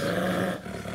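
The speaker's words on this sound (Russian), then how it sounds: "Ты на кого рычишь?" An animal at a zoo growls in a low, rumbling snarl, close and steady, tapering off after a moment with some background noise.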